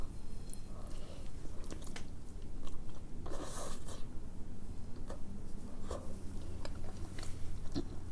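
Close, steady chewing and crunching of Samyang carbo spicy chicken noodles and dumplings, with wet squishy bites and occasional crisp snaps repeating throughout, no talking.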